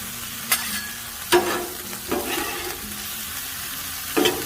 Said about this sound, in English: we're going to pour our corn on there